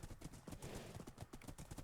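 Horse hooves clip-clop in a video game town, a quick steady patter of close, muffled hoofbeats running throughout without talking.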